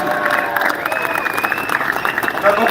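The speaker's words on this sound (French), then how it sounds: "qu'on peut applaudir très fort." Crowd at an outdoor patriotic rally applauding loudly and steadily for a speaker, dense continuous clapping mixed with cheering and some raised voices throughout.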